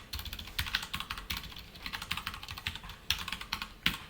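Steady, fairly quiet clatter of keys as code is typed on a computer keyboard, with irregular bursts and short pauses, no voices.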